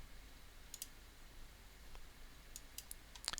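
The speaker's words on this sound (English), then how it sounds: "I'm going to click OK on that." Mouse clicks on a computer running PixInsight software come as small, quiet ticks, a pair early on and a scattered cluster near the end, against a low hum.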